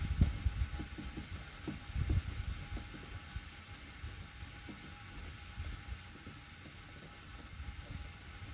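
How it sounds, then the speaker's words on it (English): Mounting screws being removed from the voltage regulator of a Cummins 40 kW diesel generator: faint, irregular ratcheting clicks and small metallic ticks over a steady low background hum. "I'm going to first take out the mounting screws."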